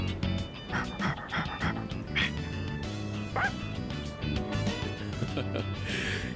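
A dog pants and barks in short bursts during a walk in the video game Persona 3 Reload, heard over steady game background music.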